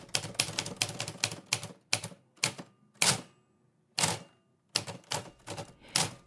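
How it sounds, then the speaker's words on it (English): A manual typewriter is typed on in quick bursts of sharp clacks, with short pauses between runs and a few heavier isolated strikes, close and dry, with no talking. "it's a manual typewriter"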